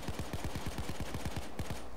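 Rapid automatic gunfire in the Payday 2 heist game, a steady burst of about a dozen evenly spaced shots fired close and loud over constant background noise.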